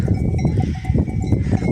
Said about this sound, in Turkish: Koyun da sardı geliyor